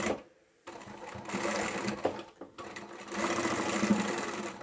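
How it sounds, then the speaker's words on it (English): A sewing machine stitches fabric for a small craft tote bag, its motor whirring in close bursts, pausing for a moment near the start and again midway before running on steadily. "I can sew all the way down"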